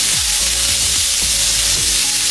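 Chopped onions fry in hot oil in a pan for a beans and egg curry, a loud, dense, continuous sizzle close up with faint low clinks of stirring underneath.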